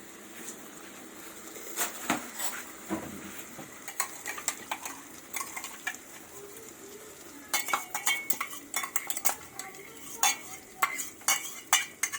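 Chicken fries in a pan with onion and tomato paste, a soft sizzle running underneath while a spoon stirs and scrapes, clinking repeatedly against the metal in uneven bursts that grow busier toward the end.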